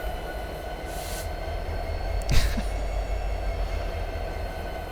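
A 710 diesel locomotive engine idles in notch 2 with a steady low throbbing rumble and a faint tonal whine, a brief clank or jolt near the middle, no voices.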